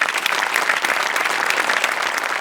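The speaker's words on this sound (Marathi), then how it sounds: "एकदा सचिन मोटेसाठी जोरदार टाळ्या." A studio audience at a Marathi comedy show gives loud, sustained applause, a dense, even wash of clapping that carries on steadily throughout.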